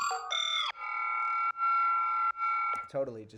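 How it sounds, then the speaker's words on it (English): A vocoder synth track with heavy drive distortion plays sustained buzzy robotic tones that shift pitch in a few held blocks, loud and saturated, ending in a gritty vocal-like phrase. "I think this distortion is a little much"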